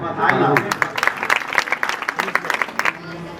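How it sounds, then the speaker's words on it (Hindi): An audience claps at a school principal's retirement function, a loud patter of scattered hands that swells and fades over a few seconds, with voices mixed in underneath. "तालियां बजनी चाहिए जब तक सब स्टेज पाते हैं।"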